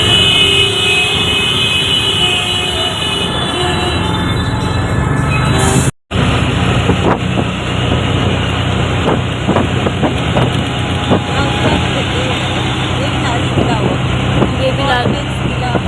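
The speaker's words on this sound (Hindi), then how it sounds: "गाड़ियों की आवाज़ ज़्यादा और मेरी आवाज़ कम आ रही थी" Street traffic in Agra, a steady loud rumble of engines and passing vehicles with horns and clatter, broken by a brief dropout, while a person talks over it.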